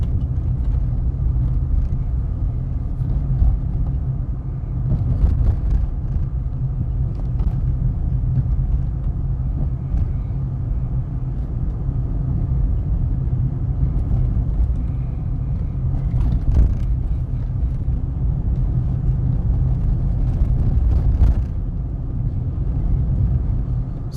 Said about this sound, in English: So we're having some bumpy ride.